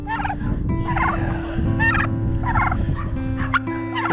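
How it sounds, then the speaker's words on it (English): Farmyard turkeys gobble repeatedly in loud, close bursts, several rattling calls overlapping one another with other livestock nearby. "So we got turkeys"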